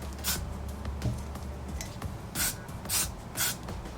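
Short hissing blasts of spray paint on a candle holder base, about five bursts of varying length with quiet rubbing and handling between them.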